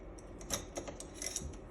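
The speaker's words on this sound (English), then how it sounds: "You can just use a simple pair of scissors, and you can even cut these out." Scissors snip through printed sticker paper, a run of quick, close, crisp cuts in an uneven rhythm with no talking.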